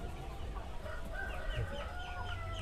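Arab and KUB crossbreed chickens cluck and call in a steady, busy flock chorus, with a rooster crow rising among the clucks over a low farmyard rumble.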